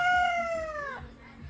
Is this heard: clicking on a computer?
no